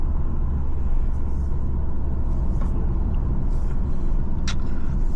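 A 2024 Subaru WRX TR car being driven, heard from the cabin as a constant low road and engine rumble, with scattered faint clicks and a short sharp squeak near the end.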